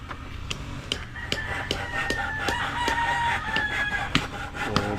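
Chickens in a small barn for chicks, with repeated rooster crowing and clucking alongside steady farmyard chatter, fairly close and continuous with sharp intermittent peaks.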